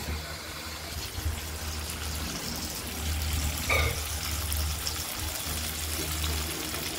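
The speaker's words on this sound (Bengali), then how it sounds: "যে পটলের বাহারে এরকম করে ভাজা করবো।" Pointed gourd (potol) coated in salt and turmeric fries in hot oil, giving a steady low sizzle and bubbling that runs throughout, with a brief brighter scrape or stir near the middle and no voices.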